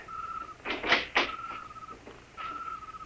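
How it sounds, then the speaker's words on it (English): A door being opened in an old radio drama, with a couple of close creaks and a dull thunk over a faint steady whine, the sounds coming in short bursts without speech. "Here's the door."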